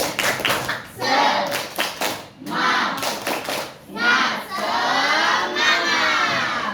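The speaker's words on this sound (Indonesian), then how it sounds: "Tepuk semangat." A school class does a rhythmic spirit-clapping cheer, children clapping in fast patterned bursts with short pauses and shouting together in chanted calls, loud and close.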